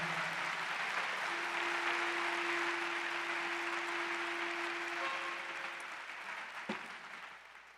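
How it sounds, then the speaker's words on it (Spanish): Congregation applause at a church ministerial retreat in Mexico City, a steady dense wash of clapping that holds for several seconds, with a sustained tone ringing through it, then thins and fades toward the end. "démosle fuerte el aplauso al Señor"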